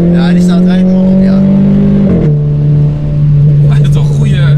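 A Renault Clio IV RS accelerates loudly with its sport exhaust: a steady engine drone climbs, briefly drops at an upshift around the midpoint, then carries on, while people talk over it.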